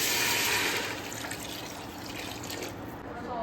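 Water poured into a cooking pot while preparing a dish, a continuous splashing, filling rush that stays fairly loud throughout and eases slightly midway.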